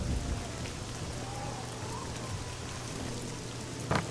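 Steady rain in The Elder Scrolls IV: Oblivion patters down on a hard surface, a constant hiss with a single sharper knock near the end.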